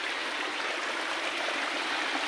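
A stream in an Arunachal Pradesh village runs with a steady, close hiss of rushing water and no pauses or voices.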